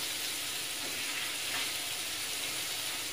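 Sweet potato slices fry in ghee in a pan, giving a soft, even, continuous sizzle at moderate distance with no pauses or voices.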